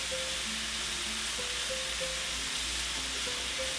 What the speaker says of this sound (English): once you put onion in, you have to stir it fairly constantly, once again, to avoid charring on the bottom